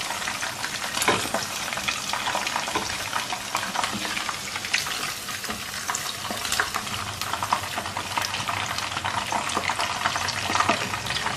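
Chicken pieces fry in hot oil for a chicken karahi, a dense, continuous crackling sizzle that stays loud and even from start to finish.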